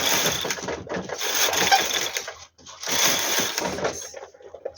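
Knitting machine carriage running across the needle bed while knitting a lace pattern, two loud clattering, rattling passes separated by a brief pause, close by.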